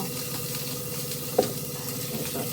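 Potatoes and onion frying for a fish curry, a low continuous sizzle in hot oil close up, with a single sharp clink of a utensil on the pan midway and no talk.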